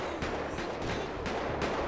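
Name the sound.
gunfire in GTA 5 video game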